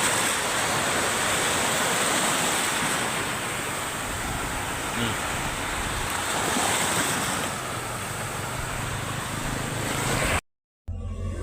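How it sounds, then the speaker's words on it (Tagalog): Ocean waves roar and wash continuously nearby, mixed with gusty wind noise on the microphone, ending in a brief abrupt silence. "Laki ng alon."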